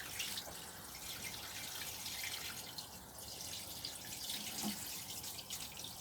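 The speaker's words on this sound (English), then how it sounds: "I'll make sure I give these a really good amount of water this time." Water pours steadily from a watering can into a dry container of carrots in an allotment garden, a soft, continuous splashing trickle heard close by, fairly quiet.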